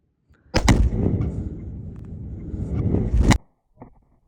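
Two pounds of Tannerite set against a steel bunker go off in one sharp, deep blast that rolls on as a loud, sustained rumble for about three seconds before cutting off, leaving a faint thump afterward.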